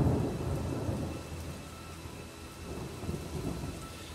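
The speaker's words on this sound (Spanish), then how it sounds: "¡Y caramba, si llovió!" Stage sound effect of a thunderstorm with heavy rain at a Christmas school show, a steady loud downpour hiss with deep rolling thunder rumbles swelling at the start and again near the end.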